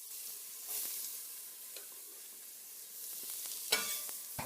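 Beef browning in a pot for boeuf bourguignon with carrots, celery and small chopped onions added, giving a soft, steady sizzle with stirring scrapes and a couple of sharp utensil clicks near the end; no voices.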